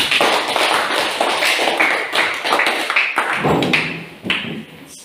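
Classroom applause follows group presentations in a school lesson: a run of fairly close, irregular clapping bursts from a small group that thins out toward the end.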